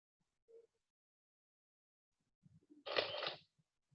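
A camera-shutter sound effect plays in a PowerPoint slideshow. One quick click is followed by a short, bright mechanical snap, standing alone against silence.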